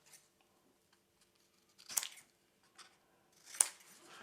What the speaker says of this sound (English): And again, I'll cut those tabs.